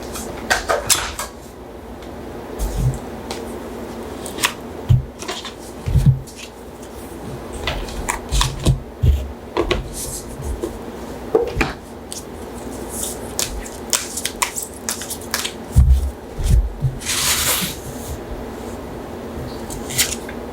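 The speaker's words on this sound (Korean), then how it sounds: "여러분들을 위한 조언 카드를 한 장 뽑아볼게요" Tarot cards being shuffled and drawn for a love-fortune reading, giving a run of soft papery flicks, slaps and taps at close range, irregular and clustered, with a brief hissy riffle near the end and no talk.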